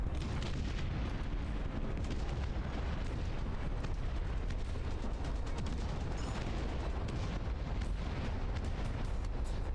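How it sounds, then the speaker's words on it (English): Artillery barrage in the real-time strategy game Dust Front RTS: a continuous roar of booming impacts and rumbling blasts, dense and loud throughout with no pauses. "Some artillery AoE."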